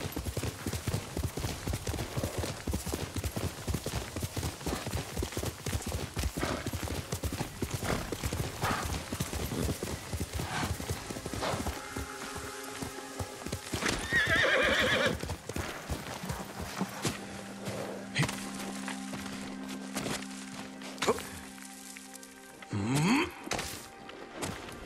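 A horse in the video game Ghost of Tsushima gallops with rapid, close hoofbeats for roughly half the clip, then slows, and a sharp whinny rises near the end over game ambience.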